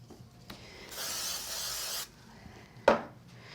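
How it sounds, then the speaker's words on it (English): A single short burst of fine hissing spray from a spray bottle during card crafting, about a second long, close by, with faint handling clicks before and after. "I'm going to give it a quick spray."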